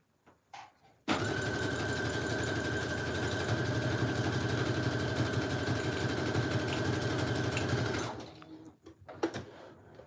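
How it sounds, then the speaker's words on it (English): A sewing machine runs a zigzag stitch on lace trim for a Dollar Tree fabric Christmas journal, a steady close mechanical whir with a fast stitching rattle that starts abruptly and runs for about seven seconds before stopping. "I'm just gonna line this up and then sew straight down"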